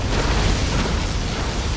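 A particle cannon blast from the Command & Conquer Generals Zero Hour video game explodes loudly and continuously, a dense, roaring burst of rumble and hiss that holds steady without a break.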